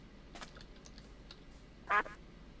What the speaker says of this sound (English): You're the duck that I was trying to tame like ages ago